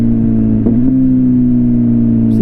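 Kawasaki Z900 motorcycle engine humming at steady pitch during a clutchless downshift, loud and close, with a brief blip in tone partway through.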